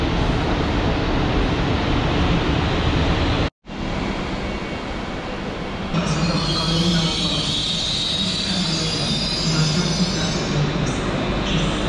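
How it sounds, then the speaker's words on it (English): An airport train out of Prague rumbles along the rails with loud, continuous wheel and car noise, a brief drop to quiet, then higher squealing and hissing as the ride continues. "that was me on the airport train before a flight back to Edinburgh"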